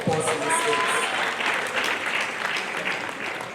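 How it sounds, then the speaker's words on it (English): Sustained applause from an audience at a stakeholders' forum on women's inclusion in parliament, a dense, steady burst of many hands clapping that holds loud throughout and eases slightly near the end. "I think we deserve a round of applause in these states."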